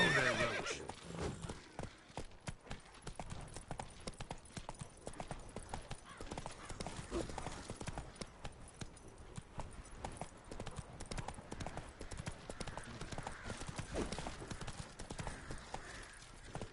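Roach the horse in The Witcher 3 clip-clops along in a steady quick rhythm of hoofbeats, with a neigh coming through amid the trotting, all at a moderate, fairly close level.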